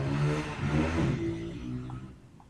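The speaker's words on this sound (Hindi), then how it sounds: "मोटरसाइकिल की आवाज़ आई होगी, भूम भूम" A motorcycle engine revs in a couple of rough, rising surges, then settles into a fading, lower drone. The sound is fairly close, with a faint whirring clatter underneath.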